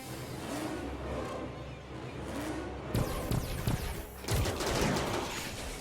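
Bursts of gunfire in the video game RimWorld, a muffled run of shots with sharper volleys breaking out midway and again near the end, set against a dense background wash.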